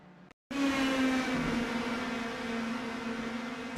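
Indy Pro 2000 race cars in the iRacing simulator, a sudden, loud, sustained high-pitched engine whine starting after a brief silence and holding steady as the cars run at full speed.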